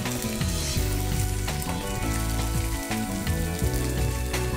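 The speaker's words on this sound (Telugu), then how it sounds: "లో ఫ్లేమ్ పెట్టేసుకొని ఈ అల్లం వెల్లుల్లి పేస్ట్ పచ్చివాసన పోయే వరకు కలుపుకుందాం" Ginger garlic paste sizzles on a low flame while being stirred, a dense steady frying hiss heard under prominent background music.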